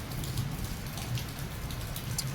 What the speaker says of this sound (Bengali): তা বৃষ্টি পড়ছে